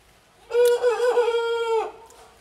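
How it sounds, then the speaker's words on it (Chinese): An old farmyard rooster crows once, loud and close, a single sustained cock-a-doodle-doo lasting just over a second against a quiet background. "是我家的老公鸡在叫唤"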